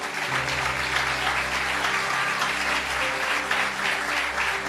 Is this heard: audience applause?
yes